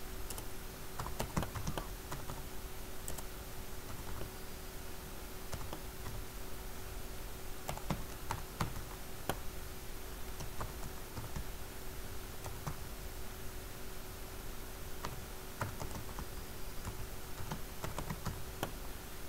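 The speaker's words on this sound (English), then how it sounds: "type the same command which I am typing in my terminal" Steady keystrokes on a computer keyboard while a terminal command is entered on a Linux computer, close and continuous clicking with irregular rhythm and occasional louder taps over a faint background hum.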